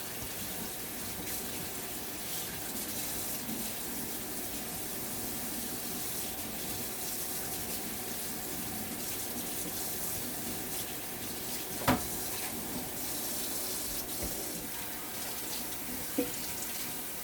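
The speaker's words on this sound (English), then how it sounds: "I grab my towel and I'm just gonna wet it in some cold water. Just wash my hands at the same time." Cold tap water runs steadily into a sink while a towel is wetted and hands are washed, a continuous close splashing hiss with a couple of brief knocks near the end.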